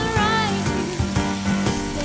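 Grilled beef ribs sizzle and bubble in a sauce of sweet soy and chili on a stone mortar, a steady close frying hiss with soft crackles and pops.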